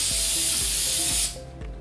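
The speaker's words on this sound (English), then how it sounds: "Spray the sticker very heavily." Duro Dyne degreaser sprays heavily onto a sticker in a loud, close, continuous hiss that cuts off sharply near the end, with faint clicks from the sprayer underneath.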